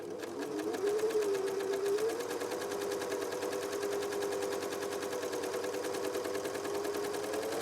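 Britannia overlocker sewing machine running steadily as it stitches along a tape, a continuous loud whirring hum with rapid needle chatter throughout.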